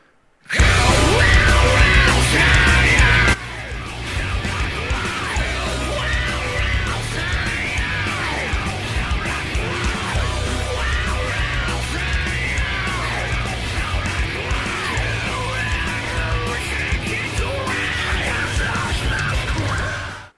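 A loud, dense band recording in a punk vein with screamed vocals over distorted guitars and driving drums, playing continuously and filling the whole span after a short, slightly louder opening burst.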